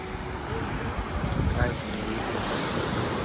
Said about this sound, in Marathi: हा बघा समुद्राचा सीन